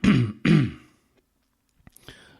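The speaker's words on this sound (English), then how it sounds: "I am clearing my throat because I have dry blood in my throat" A person clears their throat twice in quick succession, close and loud, followed by a faint click and soft breath.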